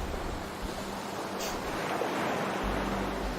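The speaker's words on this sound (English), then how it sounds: "watching the waves come in far below us" Ocean waves roll in far below in a steady, washing surf roar, broad and continuous with a faint wind rush over it and no one speaking.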